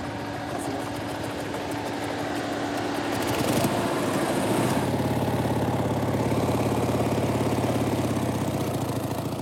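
A motorbike engine runs steadily through a ride in the Armenian desert, rising to a louder, rougher drone partway through as the throttle opens, with no talk over it.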